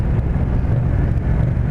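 A 2017 Yamaha MT-07 Tracer motorcycle fitted with a MIF aftermarket exhaust idles and rumbles steadily nearby, a deep, continuous engine drone with no voices.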